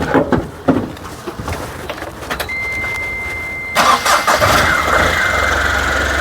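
An Ashok Leyland Dost pickup, a 2023 model, cranks briefly and catches, its engine then settling into a steady, smooth idle close by, with no talk over it.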